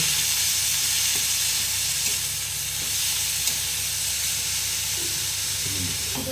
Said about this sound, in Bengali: একটু আস্তে করে নাড়তে হবে।